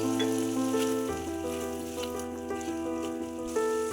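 Spice paste of ginger, coriander, cumin, chili and turmeric with egg sizzles and crackles steadily in a pan for a vegetarian jackfruit curry, while a sustained musical tone plays over it.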